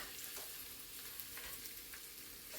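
Eggs, potatoes and sausage sizzle steadily in a breakfast stirfry, giving a soft, constant crackle with faint stirring ticks and no voices.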